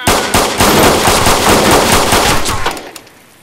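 SKS rifle fire in the video game DayZ: a loud, rapid burst of repeated shots lasting a few seconds, then cutting off abruptly.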